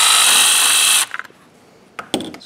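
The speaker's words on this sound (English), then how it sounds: "So I have my step drill bit here ready." A power drill fitted with a step drill bit bores through a dash panel during a Dakota Digital dash install, giving a loud, steady whine for about a second before stopping, followed by a few brief clicks and handling knocks.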